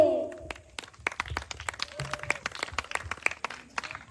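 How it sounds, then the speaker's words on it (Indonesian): At a pesantren arts festival performance, a small audience gives scattered, uneven hand claps, individual sharp slaps rising and thinning irregularly, fairly faint with a brief voice near the start. "tepuk tangan untuk kami"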